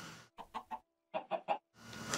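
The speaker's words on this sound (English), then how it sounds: "And yes, those are chickens because we don't have owls." Chickens in the Minecraft video game give two quick runs of three short clucks each, clear and close, separated by silence before a burst of ambient noise.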